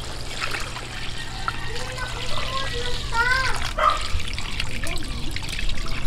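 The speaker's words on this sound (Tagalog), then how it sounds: "ilagay ko na yung tubig" Water pours and trickles steadily into a boiling pot of pork adobo outdoors, close up, with a low hum underneath and a dog barking briefly in the background.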